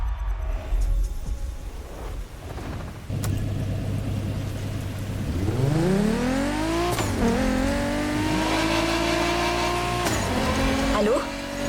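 A street race car in a video game revs hard while drifting, its engine climbing in pitch over a long, loud sweep with tire squeal and rumble, and a voice talking over it.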